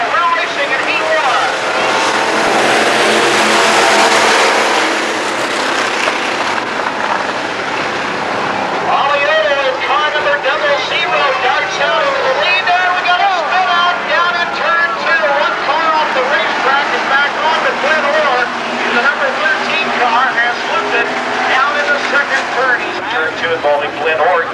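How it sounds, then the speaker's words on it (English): Race cars roaring off at the start of a heat at Adams County Speedway, a loud sustained engine din with rising and falling whines as the field accelerates, an announcer's voice over the top. "We're racing in heat one."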